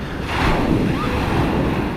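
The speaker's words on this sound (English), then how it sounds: "Dumping waves is a phenomena that occurs when the swell has to travel from deep water to shallow water really quickly" Dumping waves break onto a beach with sandbars at Noosa Heads, Queensland, giving a broad, continuous roar of surf mixed with wind buffeting the microphone, close and loud without a pause.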